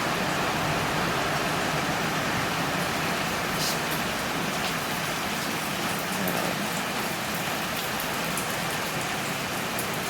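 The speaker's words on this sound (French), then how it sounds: "de la pluie, là" Steady rain falls outside a hostel in Thailand, a dense continuous hiss of drops on surfaces filling the whole stretch, with a brief voice barely audible.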